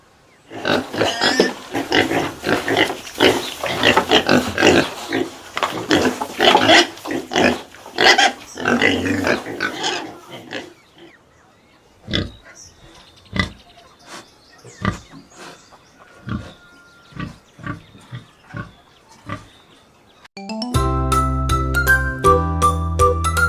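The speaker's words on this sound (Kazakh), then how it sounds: "Шошка." A pig grunts and squeals in a loud, dense run of snorts, then a sparser series of sharp grunts, before a tinkling jingle takes over at the end.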